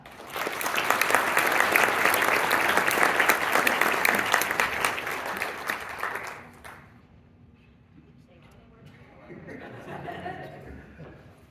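Loud, dense applause from an audience at a tech awards ceremony greeting the Humanitarian Award winner, sustained for about six seconds before fading, then a quieter patch with a faint tone and soft murmuring.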